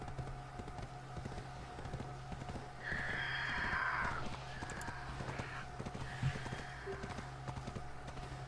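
A horse moves through the Black Desert Online world, hooves tapping in a loose clip-clop rhythm against a steady background hum, with a brief brighter burst partway through and no talking.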